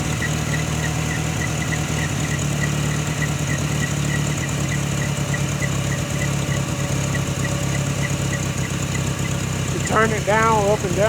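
A 1994 Dodge Ram engine, carbureted and being adjusted after sitting unused for six months, idles low with a steady, even rumble that runs throughout. A brief higher mechanical whine rises near the end.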